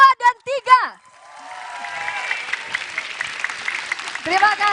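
Audience applause fills an Indonesian presidential debate hall during the third 2024 candidates' debate, a steady crowd clapping that rises after a brief moderator's voice and continues to the end with scattered voices mixed in.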